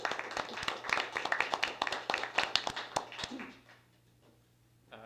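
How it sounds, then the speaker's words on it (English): Audience at a city council meeting applauding the outgoing mayor: sharp, moderately sparse hand claps that thin out and stop after about three and a half seconds, leaving near silence. "let's give him a round of applause"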